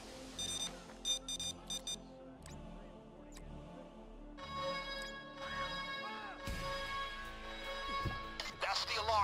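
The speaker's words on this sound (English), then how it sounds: "That's the alarm." A bank alarm rings during a loud heist in the video game Payday 2, a repeating electronic tone that pulses steadily under music and game noise, with people talking over it throughout.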